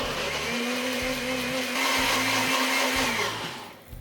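Mixer grinder blends grapes, a loud steady motor whir with a grinding buzz that runs continuously, then briefly cuts off near the end.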